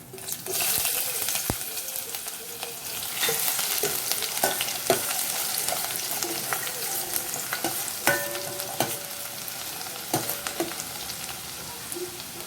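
Chopped onion and chili frying in about a tablespoon of hot oil for a Malvani horse gram pithla, a steady close sizzle with occasional spoon scrapes and taps against the pan, no voices.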